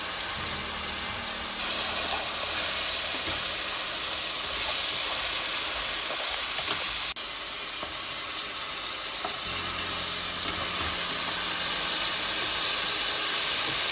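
Tomato and garlic sauté in a pan for red sauce pasta, giving a steady close sizzle and steamy hiss that runs unbroken throughout, with occasional faint stirring.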